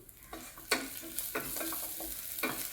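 Okra frying in oil in a pan, a steady close sizzle with repeated scraping stirs of a spoon at an uneven rhythm, with no voices.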